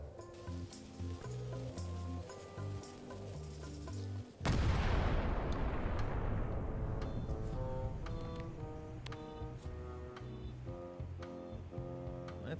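A cannon booms once in the video game Return to Monkey Island, a sudden loud blast that decays into a long hissing rumble while light game music plays before and after.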